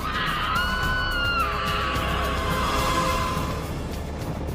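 Riders on the Millennium Force roller coaster scream together, several long wavering high-pitched shrieks rising over loud rushing ride noise for several seconds.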